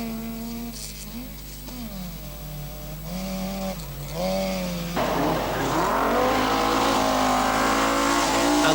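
An Opel Kadett GSI rally car at a 1985 rally approaches with rising, revving engine notes through gear changes, then roars past loudly and close, its engine howl filling the last half.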